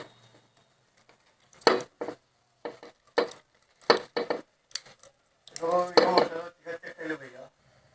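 Copper winding coil pushed into the slots of a 0.5 HP single-phase 1440 RPM motor stator, heard as short crisp rustles and scrapes in small clusters. Someone talks between them.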